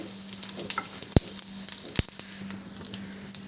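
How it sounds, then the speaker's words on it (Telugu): Coriander seeds and cumin fry in a pan, giving a close, steady sizzle scattered with small crackling pops and a few sharper clacks as they are stirred. No one speaks. "ఇప్పుడు ధనియాలు జీలకర్ర వేసి వేయించేసుకుందాము"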